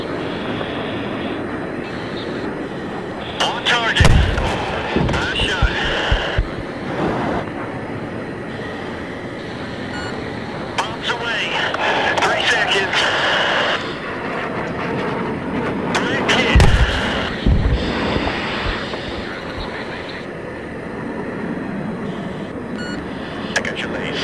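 Bombs dropping and exploding in the video game Battlefield 3 as an aircraft attacks hardened bunkers near a radar tower: several heavy booms burst over a constant jet and engine roar, with radio voices talking throughout.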